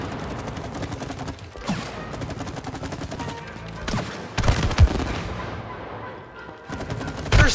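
Gunfire in the It Takes Two video game as players shoot at nests, dense rapid bursts of shots layered with mechanical game effects, continuous and loud with brief heavier impacts.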